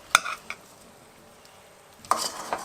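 Stubborn peppers stirred in a pot while making Caribbean roti seasoning, heard as a few brief scraping, sizzling clatters of the spoon separated by a quiet gap.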